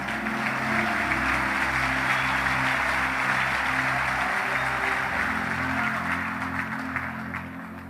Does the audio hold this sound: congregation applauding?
yes